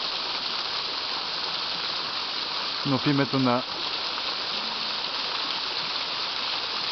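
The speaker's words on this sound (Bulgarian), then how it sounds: "съм застанал под водопада" A waterfall roars in a constant, dense rush close by, heard from a spot beneath the falling water, while a voice speaks briefly over it.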